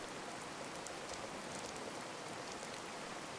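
Steady rain pours in the tropical island survival game Card Survival: Tropical Island, a dense hiss with scattered droplet patter that holds even throughout, heard alone at a soft level.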